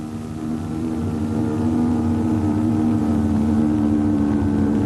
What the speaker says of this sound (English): This one sounds like an outboard motor, and some scientists feel it may have been copied by the whales from boat engines